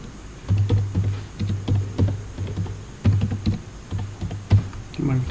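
Keys on a computer keyboard being typed in bursts of fast, fairly loud clicks with short pauses between, alongside a low steady tone and occasional background noise.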